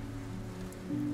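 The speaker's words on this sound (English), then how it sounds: "as the raindrops pelt their leaves" Steady rain falls at night beside a boathouse on the water, a soft even patter with a low droning hum beneath it across the short stretch.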